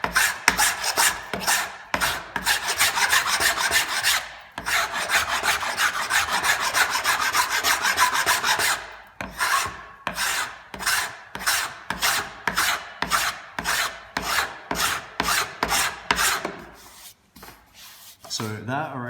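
A file rasps a groove into a wooden spatula in fast repeated strokes, dense and continuous at first, then in separate rhythmic scrapes, close and clear.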